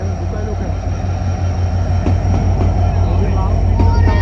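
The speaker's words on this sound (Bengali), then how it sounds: "ঢাকা থেকে ছেড়ে আসা পঞ্চগড় অভিমুখী ননস্টপ পঞ্চগড় এক্সপ্রেস ট্রেনটি এই মুহূর্তে চিরবন্দর অতিক্রম করছে" Nonstop Panchagarh Express train passing through Chirirbandar, Bangladesh, a loud continuous rumble of wheels and coaches with a low engine drone and scattered rail clicks, close by.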